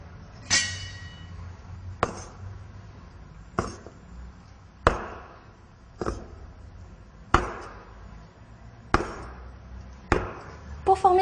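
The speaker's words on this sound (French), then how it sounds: "Nous allons la découper en petits lingots." A knife chops Chinese dumpling (jiaozi) dough into small pieces on a board, sharp, close thuds landing one at a time at a slow, steady pace, about eight in all, with quiet pauses between.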